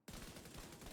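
Primary weapon gunfire in The Division 2 during a raid damage test, a dense rapid burst of loud automatic shots starting abruptly and continuing without pause.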